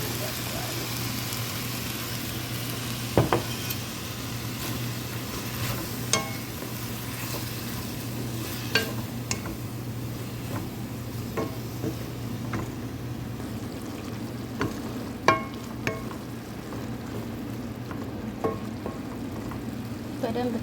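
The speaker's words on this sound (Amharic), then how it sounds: "ቅድምን የበጠበጥነው ሶስ እዚህ ላይ እናደርገዋለን" A thin sauce hits a hot pan over lowered heat for a Chinese-style dish, with a steady low sizzle and bubbling throughout, dotted by brief clinks and scrapes.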